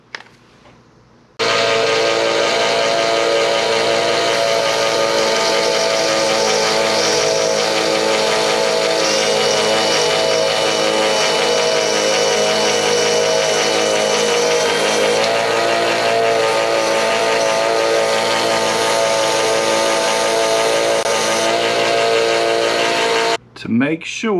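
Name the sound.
belt sander grinding down screws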